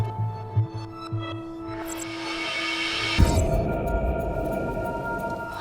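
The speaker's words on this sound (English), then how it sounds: "What's the rumbling, though?" A low, throbbing rumble echoing through the void in the video game The Complex, swelling to a louder, broad roar partway through over humming tones.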